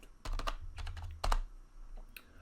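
Quiet typing on a computer keyboard, several close key clicks in quick bursts with a couple of louder presses and short pauses between.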